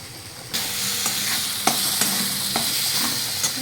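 Masala spices fry in a pan for a chicken kosha, a continuous close sizzle that starts abruptly, punctuated by several sharp scrapes and knocks of a spatula stirring against the pan.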